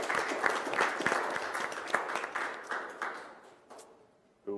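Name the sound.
round of applause at a board meeting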